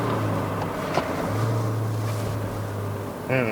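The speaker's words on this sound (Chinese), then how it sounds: "其实现在你看那个引擎声，它不会吵诶" A steady, low engine hum from a 2023 Toyota Hilux GR Sport 2.8L drones continuously at modest volume inside the cabin, smooth and unobtrusive, with no talking.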